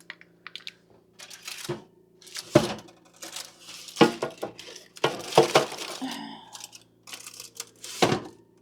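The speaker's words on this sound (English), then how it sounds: "Let me pop these in here and grab us another pan" Clattering and clinking while pans are handled during baking of meringue cookies and boiled custard, a series of sharp, close metallic knocks and scrapes with quiet gaps between them.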